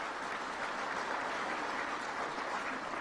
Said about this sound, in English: You could give him a round of applause.